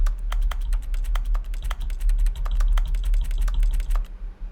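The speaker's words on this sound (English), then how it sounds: "I like that the interact sound is like keyboard noises." Keyboard-like clicking of the interact sound in the video game The Stanley Parable: rapid, irregular key taps in a steady typing rhythm, close and clear over a low hum, with no voices.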